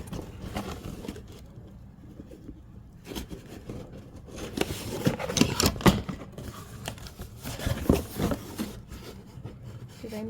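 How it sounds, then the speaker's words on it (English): A screwdriver pressed and worked into a cardboard box to punch a hole, giving close scraping, rubbing and crunching sounds that swell and fade in irregular bursts. "I'm going to punch a hole"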